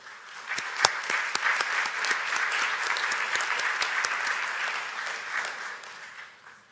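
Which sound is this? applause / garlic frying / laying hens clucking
applause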